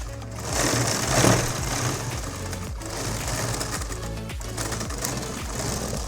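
A sewing machine stitches a summer night gown. A loud, continuous mechanical whir with a rapid needle rhythm runs close by, with a few brief pauses and changes in speed.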